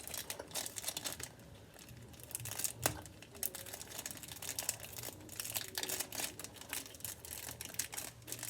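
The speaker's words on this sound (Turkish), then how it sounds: "Bileziği de açalım." Packaging around a bracelet being opened, heard as continuous quiet, close crinkling and crackling of plastic with scattered sharp rustles and snaps.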